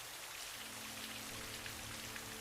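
Rain falls steadily on a quiet night, a soft, even patter of drops on surfaces with a faint low hum underneath and no voices.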